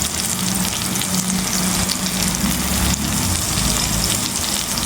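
Chopped tomatoes sizzling loudly in a frying pan for a Tamil prawn ball curry, a constant dense crackling fry with no talk.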